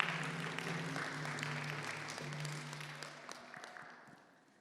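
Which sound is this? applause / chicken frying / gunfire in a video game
applause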